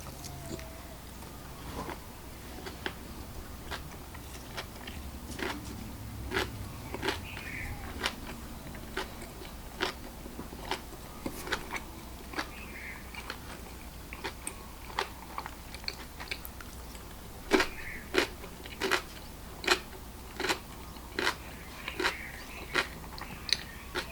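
Kimbap with crunchy carrots, pickled radish and soft ground beef being bitten and chewed close up, a steady run of sharp crunchy bites and chewing sounds that grow louder and more regular toward the end, with no talking.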